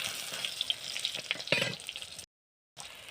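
Green chillies sizzle and spit in hot oil in a pan beside fried brinjal, a steady close frying crackle that cuts out briefly near the end.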